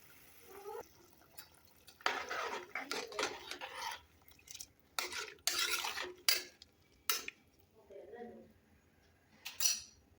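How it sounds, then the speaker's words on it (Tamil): Rice added to boiling coconut milk and stirred in a pot, with intermittent scraping and clinking of a spoon against metal and soft bubbling, close and moderately loud, under occasional speech. "இதோட அரிசியை ஆட் பண்ணிக்கலாம்."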